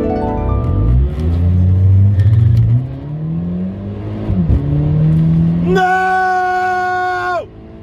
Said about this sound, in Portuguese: Eu coloquei meu carro na pista por lá